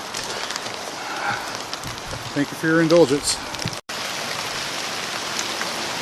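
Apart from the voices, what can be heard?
rain falling outside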